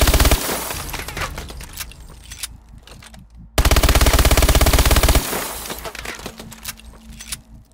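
MP11 submachine gun firing in Call of Duty Advanced Warfare, loud rapid automatic bursts at mid-range, one sustained dense burst in the middle flanked by shorter volleys with clattering impacts.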